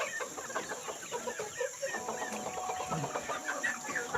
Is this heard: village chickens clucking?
yes